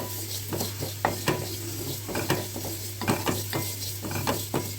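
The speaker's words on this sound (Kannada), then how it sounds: "ಎಳ್ಳು ಹುರ್ಕೊಳ್ಳೋಣಂತ" Sesame seeds dry-roasting in a pan, stirred with a utensil that makes repeated scraping clicks and light rattles over a faint sizzle and a constant low electrical hum.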